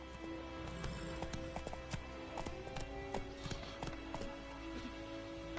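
Horse hooves clip-clop steadily as the animal is ridden along, an irregular run of close hoof strikes over a low background hum, with a brief whinny-like sound and faint voices in the mix.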